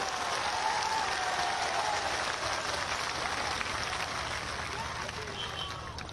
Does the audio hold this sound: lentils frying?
no